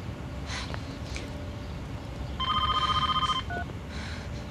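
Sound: telephone ringing

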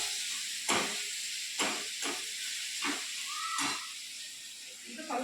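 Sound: ginger and garlic frying in oil

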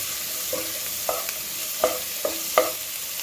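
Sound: sautéing vegetables in a pan for egg fried rice

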